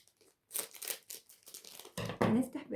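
Someone tears open a plastic snack bag with a loud crinkling, ripping burst after a few softer rustles, close up and with no talk over it.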